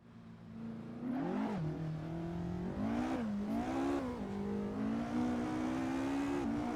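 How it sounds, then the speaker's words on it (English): Sim racing car engine revving loud and steady from start to end, pitch climbing and dropping with each throttle shift and gear change, alone with no talk. "Let's turn up my engine volume here because I'm not hearing it."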